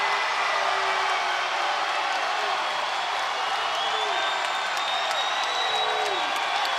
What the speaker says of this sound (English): Moore gets the crowd at UNF Arena going crazy